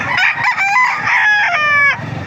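Rooster crowing loud and close, one full drawn-out cock-a-doodle-doo with a rising, wavering call, heard alone.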